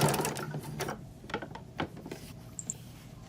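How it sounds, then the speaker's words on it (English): A sewing machine runs along a folded fabric edge for a quilt block pillow, giving a fast, even mechanical whirr with light ticking, soft and close, with no talking. "we're folding this over, sewing this all the edge all the way"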